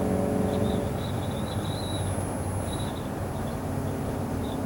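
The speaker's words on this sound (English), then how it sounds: "Got a little wind noise. I don't know if it's coming from a window or somewhere." Inside a moving 1997 Fleetwood Bounder 34P motorhome, a steady wash of wind noise and low road rumble fills the cabin, with a faint thin whistle drifting in and out.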